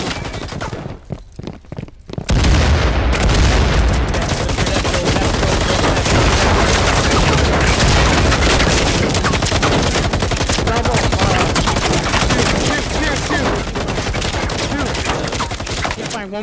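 Dense, loud gunfire in a shooter video game match, sustained rapid automatic bursts and shots after a brief quieter opening, continuous and close throughout.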